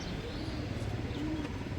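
Pigeons kept in pairs coo softly in a rooftop loft at a pigeon-keeping club, low murmuring calls running steadily through the short stretch with a faint chirp or two above.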